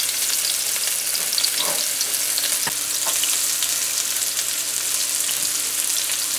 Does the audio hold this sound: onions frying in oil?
yes